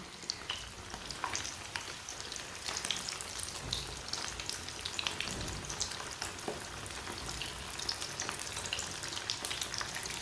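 Samosas frying in hot oil, a dense continuous sizzle with crackling pops throughout, close and steady, with no voices.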